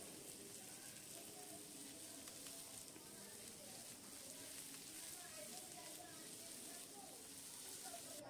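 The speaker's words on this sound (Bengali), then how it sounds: "পেঁয়াজটা ভাজা করতে হবে।" Sliced onions with a pinch of salt frying in hot oil in a pan, producing a steady, quiet sizzle and hiss that continues without a break.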